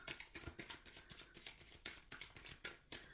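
Tarot cards being shuffled, a rapid run of crisp papery riffles and taps repeating in an uneven rhythm, close and fairly quiet, with no talk.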